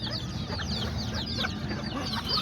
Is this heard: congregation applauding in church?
no